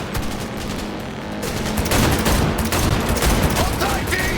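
Rapid shootout gunfire in Cyberpunk 2077, loud and dense bursts from a moving vehicle that build after the first second and continue to the end, mixed with game ambience.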